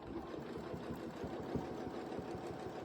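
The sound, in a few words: sewing machine stitching quilt seam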